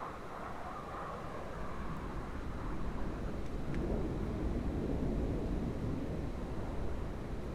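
Jet engine roar of an F-22 Raptor stealth fighter in the Broken Arrow war game, a continuous low rumbling drone that swells slightly midway and holds steady with no talking.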